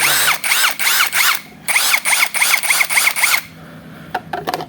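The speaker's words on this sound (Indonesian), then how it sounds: "RPM nya di 1200 ya, 1200an. Ini lumayan oke." A cordless battery drill spins at about 1200 RPM in short whirring bursts, the motor pitch rising and falling with each trigger pull. Several close, loud runs come in two groups, then a few sharp mechanical clicks follow.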